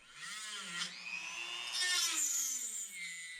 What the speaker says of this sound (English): I'm using my Dremel tool to rough the shape out, and then a little bit of hand filing as well